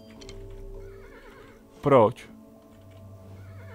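A tired horse in the game Kingdom lets out one loud whinny, short and close, over soft game music with someone speaking quietly before it.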